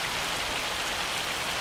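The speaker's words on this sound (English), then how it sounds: "I guess we're going to wait the hailstorm out." A hailstorm in Farming Simulator 25 pelts down as a dense, steady hiss of falling ice, continuous and fairly loud with no letup and no voices over it.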